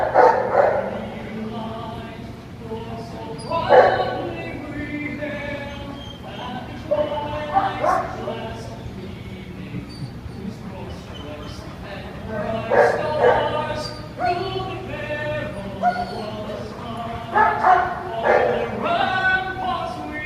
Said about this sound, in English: you will hear dogs barking along